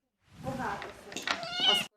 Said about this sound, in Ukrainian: Ветеринар Тарас Савченко показує бездомного кота, якого під час морозів прихистив у своїй ватклініці у Луцьку хворого